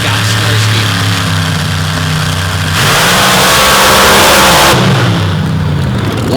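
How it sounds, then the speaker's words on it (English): Drag race cars launch side by side, one running a 581 cubic inch Hemi in a Brasket Race Cars chassis, roaring loud and close with a rising engine howl that swells mid-pass, heard alone without talk. "Fling running that 581 cubic inch Hemi inside of that Brasket Race Cars built chassis, going side by side with a legend in the class"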